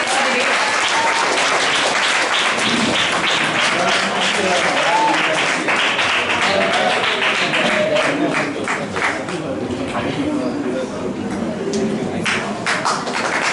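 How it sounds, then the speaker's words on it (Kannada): A crowd at a Kannada Rajyotsava celebration claps for the deputy secretary, a loud and sustained round of applause with scattered sharper claps throughout. "ಚಪ್ಪಾಳೆಗಳೇ ಇನ್ನೂ ಜೋರಾಗಿ ಬರಲಿ"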